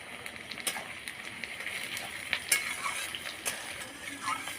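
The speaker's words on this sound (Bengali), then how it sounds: "পেঁয়াজটা লাল লাল করে ভাজা হয়ে গেছে" Chopped onions and green chillies fry in a pan while cooking a country chicken curry, giving a soft, steady sizzle with a few light clinks and stirring scrapes, fairly quiet and without talking.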